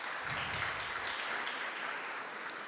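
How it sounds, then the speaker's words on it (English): Continuous applause from an audience at an exhibition launch event, a dense, even wash of clapping hands that holds steady throughout the short stretch. "A round of applause once more"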